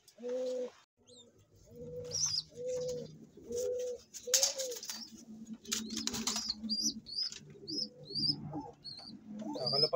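Pigeons coo in a series of close, rhythmic low calls, with wing flaps and scattered higher chirps joining in the second half.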